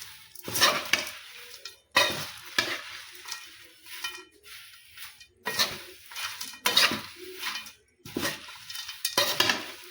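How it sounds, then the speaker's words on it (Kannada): Flattened rice (avalakki) chivda is stirred and tossed in a pan with a spoon or spatula, giving repeated bursts of dry rustling and scraping roughly every second, loud and close. "ಈಗ ನೋಡಿ ಈ ಥರ ಚೆಂದಾಗಿ ಮಿಕ್ಸ್ ಮಾಡ್ಕೋಬೇಕು ನೋಡಿರಿ"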